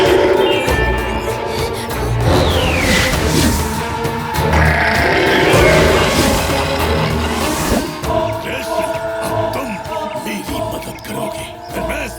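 A cartoon sheep bleats amid a noisy animated action scene, its wavering cries sounding over a loud, busy bed of music and effects, with sweeping tones and rumbling movement.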